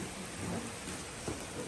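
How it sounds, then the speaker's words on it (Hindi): Steady rain falls in Miandam, Swat valley, a continuous broadband hiss of drops on surfaces with faint low rumbles, close and even throughout. "So, it's raining."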